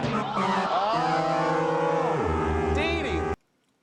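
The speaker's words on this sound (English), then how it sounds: "and the car failed to start" A Hollywood Squares game show sound effect of a car failing to start, a loud sustained whining engine-like tone that slides downward and sputters before cutting off abruptly.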